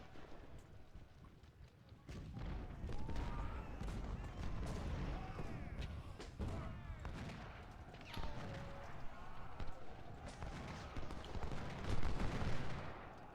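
Rifle infantry fire in a Civil War strategy game, with crackling musket volleys and scattered gunshots mixed with battlefield noise and hoofbeat-like clatter at a moderate distance.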